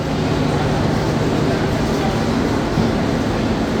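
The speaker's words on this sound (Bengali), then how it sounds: "ট্রেনটি তার নির্ধারিত যাত্রাবিরতির সময় তিন মিনিট যাত্রাবিরতি দিয়ে জয়পুরহাট রেলওয়ে স্টেশন ছেড়ে যাচ্ছে" Shimanta Express train leaving Joypurhat railway station, a continuous loud rumble of rolling wagons with a low steady drone and no breaks.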